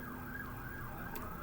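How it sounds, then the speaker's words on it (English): An ambulance siren wails steadily in the distance, its rising and falling tone running through the whole moment over a low hum of city traffic, with no talking. "ambulance"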